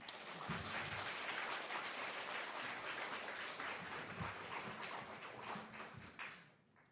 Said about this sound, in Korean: 박수를 해주셔서 고맙습니다.